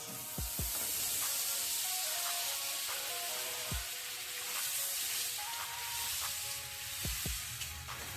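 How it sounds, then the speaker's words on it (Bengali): Amul butter melting and sizzling in a hot kadai, a steady soft crackling hiss throughout with a few faint clinks, no voices. "যেহেতু এটা বাটারে হবে তাই বাটারটা আগে দিয়ে দিচ্ছি কড়ায়"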